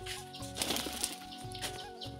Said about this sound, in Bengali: কবুতরগুলো খাওয়ানো হয়ে গেছে, তারপরে ওরা শুধু ওড়াউড়ি করছে আর কি